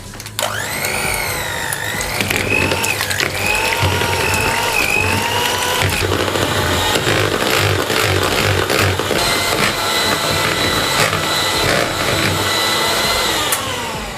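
An electric mixer whirs continuously through pumpkin muffin batter, its whining motor pitch wavering and shifting as it churns, close and alone for over ten seconds.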